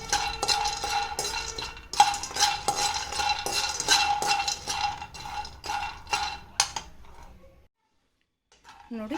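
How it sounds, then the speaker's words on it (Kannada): Peanuts roasting in oil in a pan for a North Karnataka chutney, with a spoon repeatedly scraping and clinking against the metal in quick irregular strokes, then falling quiet before a faint knock. "ಬನ್ನಿ ಈಗ ಶೇಂಗಾ ಹುರ್ಕೊಳ್ಳೋಣ ಚೆನ್ನಾಗಿ"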